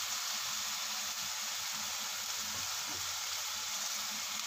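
Five medium tomatoes, ground to a paste, go into a hot pan and fry with a loud, continuous close sizzle that stays even from start to finish.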